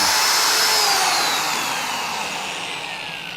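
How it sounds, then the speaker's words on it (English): Drill running during a home brew day, a steady, fairly loud whirring hum that holds constant and fades slightly over a few seconds, with no talk. "I don't know if you guys can hear the drill."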